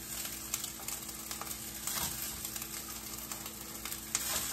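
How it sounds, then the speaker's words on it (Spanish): Rice tossed and stir-fried in a hot pan for homemade Chinese fried rice with egg, a continuous close sizzle punctuated by scraping and stirring clicks. "Vamos a echar arroz."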